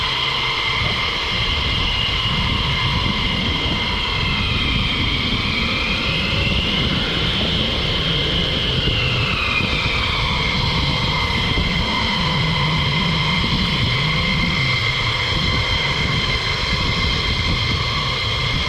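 A military jet at RAF Lakenheath at night with afterburners produces a continuous, loud, roaring engine rumble with a steady high whine, sustained throughout without a break.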